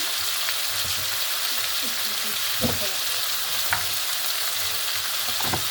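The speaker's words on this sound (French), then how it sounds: "Je vais rajouter de l'huile de coco." Coconut oil sizzling and frying in a pan, a steady soft crackle with a few stirring clinks and scrapes, fairly quiet and close, without talk.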